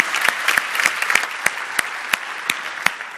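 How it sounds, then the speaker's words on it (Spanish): An audience at an evening awards ceremony during an Andbank annual strategy conference gives a round of applause, many hands clapping briskly and loudly, with individual sharp claps standing out near the recording. "un aplauso"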